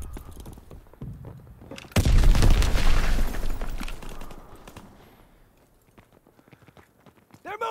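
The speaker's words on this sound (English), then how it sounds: "Tossing grenade!" A grenade explodes in the World War II shooter Call of Duty: WWII, a sudden loud blast with deep rumbling debris that fades over a few seconds, framed by scattered soft footstep-like thuds.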